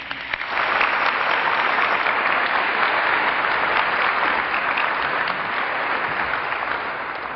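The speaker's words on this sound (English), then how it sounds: "Please give a round of applause for Dr." Crowd at an Ohio State University vigil applauds a speaker being introduced, warm sustained clapping rising quickly and continuing evenly for several seconds with no voices over it.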